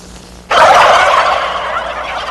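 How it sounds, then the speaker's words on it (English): A turkey gobbles once, close and loud, a sudden burst of rapid warbling that starts after a quiet moment and trails off over two seconds. "And now a word on behalf of turkeys, that most maligned of birds."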